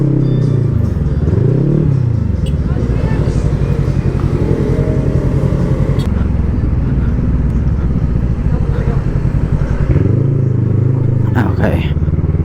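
A Voge CU525 motorcycle engine hums steadily throughout with rising and falling revs while riding, as someone talks over it.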